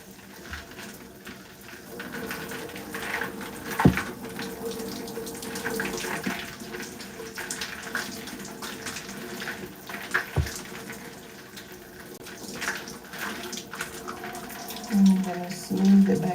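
Water sprays and runs onto natural curly hair during a pre-poo treatment, a steady splashing hiss like a running tap, with occasional knocks and handling noises and a voice talking at times.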